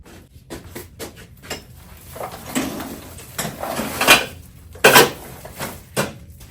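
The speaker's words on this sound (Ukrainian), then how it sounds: "Це вже другий мішок повний металевого посуду зібрала старого непотрібного." Old, unwanted metal dishes and pots clatter and clank as they are handled and gathered in a kitchen, a run of sharp metallic knocks and scrapes with louder clashes near the end, close by with no talking.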